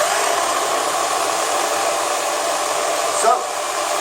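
A Nirey electric knife sharpener runs with a loud, steady high-pitched whine throughout, and a brief grinding touch near the end as a blade enters a slot.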